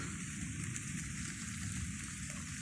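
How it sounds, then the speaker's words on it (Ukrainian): Steady rain falls after a storm, a continuous broadband hiss of drops that holds level and fairly close throughout, with no voices. "Піднялися хмарки і пішов дощ."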